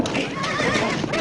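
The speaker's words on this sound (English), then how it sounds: "Your horse ran away again, Mr. McGee." A spooked horse in a 1958 farm-set film neighs in a loud, continuous whinny over hoof clatter and commotion, filling the whole short moment at close range.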